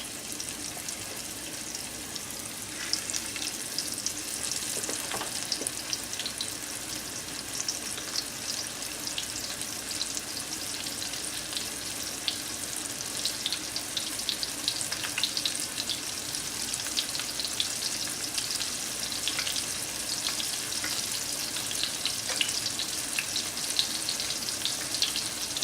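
Pork tenderloin cutlets sizzle steadily in a hot pan, a continuous bright crackle and hiss at close range with a few louder pops, no voices.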